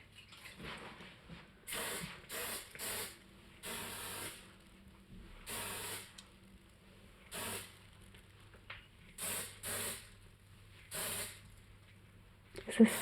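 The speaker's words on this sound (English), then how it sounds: "Is this hairspray? Yeah, it adds more volume to your hair." Hairspray sprayed onto hair in short bursts during a Korean makeup and hair session, about a dozen close hissing sprays of varying length, with quiet talking in between.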